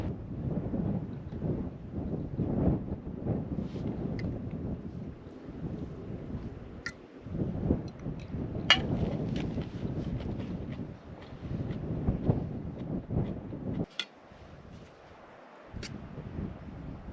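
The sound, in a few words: wind at truck campsite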